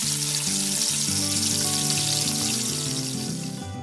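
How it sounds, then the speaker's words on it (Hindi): Prawns fry lightly in hot oil with a steady, bright sizzling hiss. A tonal melody plays underneath throughout. "और तेल गरम होते ही फ्राई कर लेंगे प्रॉन्स को।"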